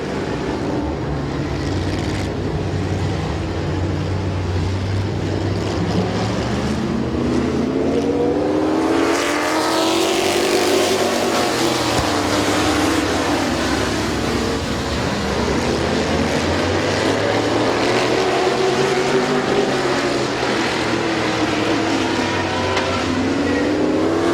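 Race cars running an eight-lap heat race at a speedway, a loud, steady roar of several engines that swells and sweeps past as the pack goes by close, then fades slightly and builds again.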